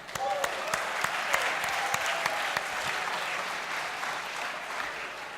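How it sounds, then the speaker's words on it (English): College gathering audience gives a moderate round of applause, a continuous wash of clapping with a few sharper claps, fairly distant and even throughout. "let's get a round of applause for that"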